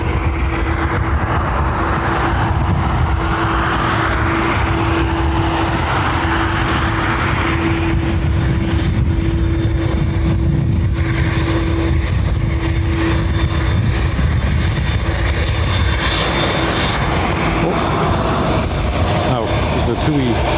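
A P-8 aircraft at Dublin Airport, a sustained loud engine roar and rumble filling the whole stretch with a steady whine, and a voice faintly under it.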